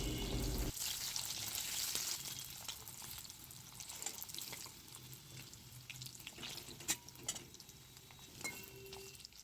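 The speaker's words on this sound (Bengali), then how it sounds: "কড়ায় তেল গরম করে পনিরের টুকরোগুলোকে হালকা একটু ভেজে নেওয়া হচ্ছে" Paneer pieces fry in hot oil in a wok, a continuous close sizzle and crackle with occasional stirring clinks, fairly quiet and without talk.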